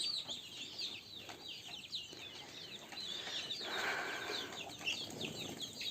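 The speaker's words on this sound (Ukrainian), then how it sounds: "О, курчата." A flock of chickens and chicks cluck and cheep nearby, with busy overlapping chirps, scattered wing flaps and scuffling at a low, close level.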